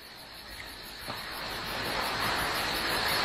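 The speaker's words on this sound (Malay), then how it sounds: "hanya mendengar bunyi air dan juga bunyi cengkerik pada malam berkenaan" Crickets chirp steadily at night beside running water, a dense continuous insect buzz over a soft wash of water noise, with no voices.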